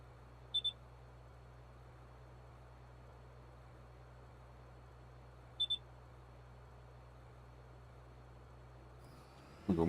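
Cab of a combine harvester during the harvest, where a warning beep sounds as a quick pair of high pips twice several seconds apart over a low steady engine drone, with a brief louder rattle at the end.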